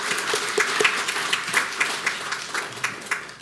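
A church congregation claps together in a steady burst of applause, individual hand claps popping out distinctly at a brisk, slightly uneven rhythm, fairly close and loud throughout.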